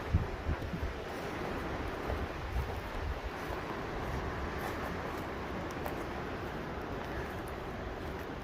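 Steady wind gusts against a microphone at a creekside campsite among trees, a continuous broadband rush with slight swells and no talking.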